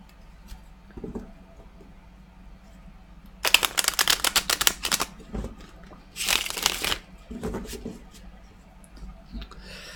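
Tarot cards shuffled by hand during a reading, crisp riffling bursts in two or three close flurries separated by quiet pauses, with brief soft sounds between.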